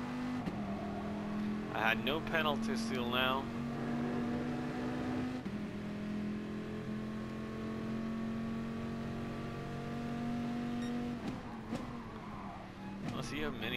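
A race car engine drones steadily through a manufacturers' race in a racing video game, a sustained mid-level hum with brief pitch sweeps as it revs and brakes, heard under someone talking.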